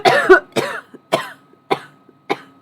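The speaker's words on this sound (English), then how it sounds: "He'd started coughing." Five separate harsh coughs spaced roughly half a second apart, loud and close, each a sharp burst that quickly fades, with no talking.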